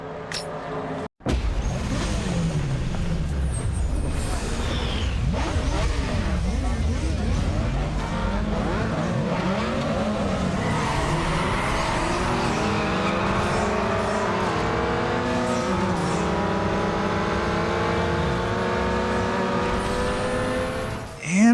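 A Nissan Skyline GT-R races a circuit in Need for Speed Underground 2, its engine loud and revving through rising and falling gear sweeps, with other cars and tire noise mixed in over a sustained roar, with speech alongside.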